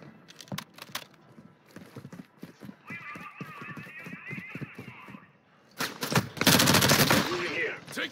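Gunfire in the Call of Duty: Modern Warfare II video game erupts as a loud, dense burst of shots near the end, after a stretch of voices talking and game sounds.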